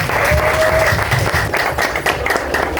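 An audience at a charity organization event applauding, a dense, loud wash of many hands clapping that carries through the whole stretch.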